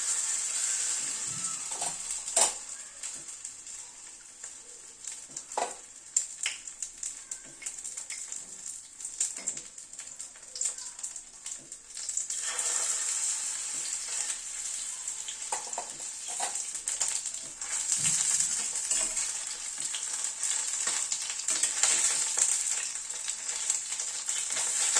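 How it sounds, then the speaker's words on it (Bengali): Egg pieces coated and dropped one by one into hot white oil, giving a steady bright sizzle with occasional sharper crackles and faint utensil clicks, continuous for the whole stretch and louder toward the end. "তেলটা গরম হওয়ার পরে একটা করে ডিমের অংশ ডুবিয়ে দিচ্ছি।"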